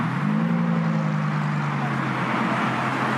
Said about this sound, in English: we got a HURACAN STO pulling in